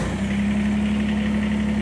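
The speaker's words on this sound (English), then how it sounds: "So I'm going to turn the tractor on" A Kubota tractor engine idling steadily and loudly close by, with a constant low diesel hum and no talk.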